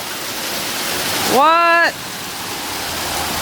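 Hail pouring down during a sudden hailstorm in Santa Monica, California, a steady broadband hiss and patter throughout, briefly interrupted by a dog's whine or squeal near the middle.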